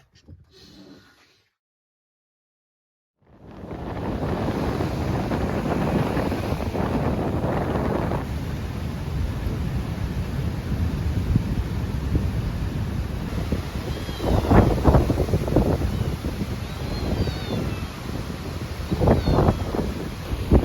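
Strong gusting wind buffets the microphone outdoors in Greece as a storm approaches, a steady loud roar with surging gusts after a brief quiet start, no talk.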